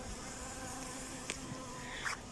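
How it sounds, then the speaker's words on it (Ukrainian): Honeybees busy at a hive with young queens, carrying nectar and pollen in autumn; a steady, faint insect buzz drones throughout, with a couple of brief louder passes near the end. "бджоли працюють, приносять, звідкись е, несуть ще нектар"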